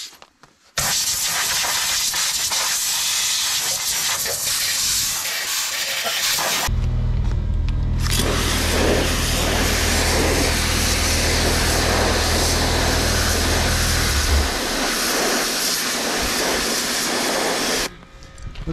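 Compressed air blasts through a dirty car part in a long, loud, steady hiss lasting most of the clip, with a deep low roar underneath that later thins out.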